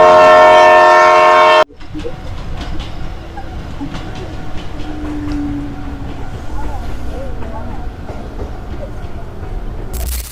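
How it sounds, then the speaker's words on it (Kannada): A loud train horn blasts for a moment and cuts off, then a train rumbles and clatters along steadily while people talk nearby, heard from aboard the train in Bengaluru. "ಫೈನಲಿ ನಾವು ಹೋಗೋ ಟ್ರೈನ್ ಇಂದ ಸೌಂಡ್ ಅಂತ ಕೇಳ್ತೋ"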